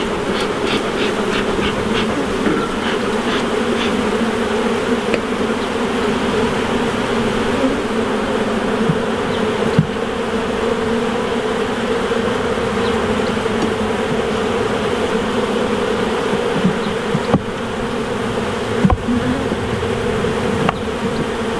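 Honey bees hum in a dense, continuous buzz during a hive inspection, the drone steady and close throughout with occasional faint knocks of boxes and frames.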